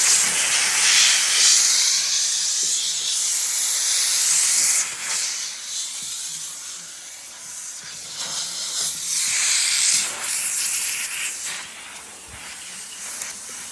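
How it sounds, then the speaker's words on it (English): A steam cleaner purges with a continuous loud hiss of spraying steam, broken by brief pulses and dips, during deep interior cleaning of a barn-find 1966 Chevy Impala, with no talk. "We're gonna purge the steamer and then just come right on into it."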